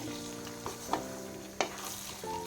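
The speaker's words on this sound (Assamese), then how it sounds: "এতিয়া গেছটো ল' ফ্লেম কৰি এইখিনি অকণমান মই ভাজি ল'ম, গোটেইখিনি মিক্স কৰি ল'ম।" Mango pickle fries over a low gas flame while being stirred in a pan, with a soft steady sizzle and a few distinct scraping knocks from the spoon, and no speech.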